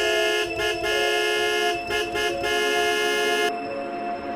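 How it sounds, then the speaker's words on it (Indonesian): A Metro Mini minibus horn honks repeatedly in short bursts, a few quick toots then a longer sustained blare, loud and close over traffic noise. "Klakson Metro Mini terus menyalak nyaring"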